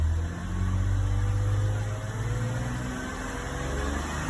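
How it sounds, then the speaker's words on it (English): A 2004 BMW X3 engine idles with a slight misfire, a steady low hum and faint mechanical whir holding even and continuous at moderate level with no talk. "Engine is running right now."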